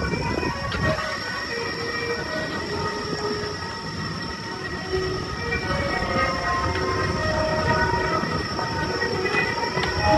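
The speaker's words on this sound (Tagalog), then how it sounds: "Yun! May train!" At Sentosa in Singapore, a train rolls past nearby with a steady loud rumble and sustained metallic tonal whine from wheels and motors, building slightly toward the end with no talking.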